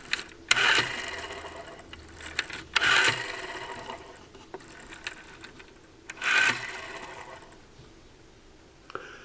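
An old telephone dial is wound and released three times, each pull a short scrape followed by a whirring, clicking return, with quiet gaps between turns.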